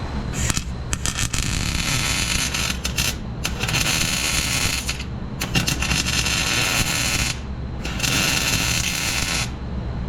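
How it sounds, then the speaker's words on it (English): Arc welding on a fan part of a potato planter: loud, crackling bursts in four runs of one to two seconds, separated by short pauses, over a steady low hum. "I've got the welder right here, so I'm going to weld this up"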